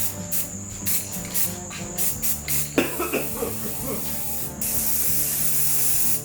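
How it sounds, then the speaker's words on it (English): Rust-Oleum Flat Black spray paint applied to a V8 five-speed sport truck, heard as short broken aerosol bursts giving way to a longer steady hiss near the end, with a cough-like sound and some background noise partway through. "Now for the paint, we're using Rust-Oleum Flat Black."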